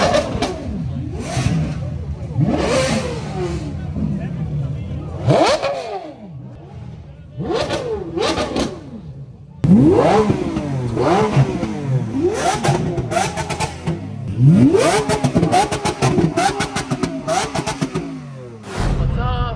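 A loud engine, stated to be an Aston Martin Valkyrie, revs repeatedly in sharp rising and falling bursts as the car pulls away, with brief pauses between revs and a run of rapid blips near the end.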